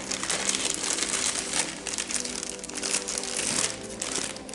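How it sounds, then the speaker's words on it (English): A plastic Ziploc bag is handled up close, giving continuous crinkling and crumpling rustles of fairly even loudness without any talking. "When you're done, just put it in a Ziploc bag."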